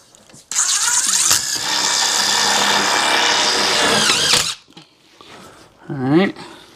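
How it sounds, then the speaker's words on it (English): A power drill driving screws into an HVAC air handler whines loudly and steadily for about four seconds, close by, with short bursts of motor sound before and after. "so I'm going to put some more screws in."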